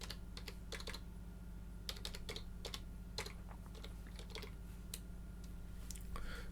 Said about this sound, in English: type your domain name